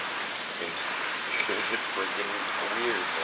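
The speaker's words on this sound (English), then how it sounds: "We've got ice coming down like rain, heavy rain." Ice pellets pelting down like heavy rain during a thunder ice storm make a steady, dense hiss that fills the whole clip, while someone talks over it.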